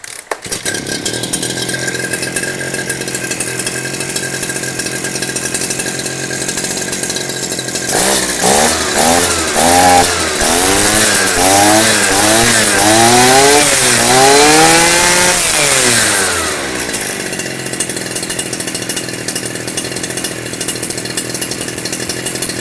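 After a coil replacement, a Maruyama MKF-A430 grass trimmer's small two-stroke engine runs loud and close, idling with a buzzing drone, then revving repeatedly in rising and falling surges for several seconds before settling back to idle.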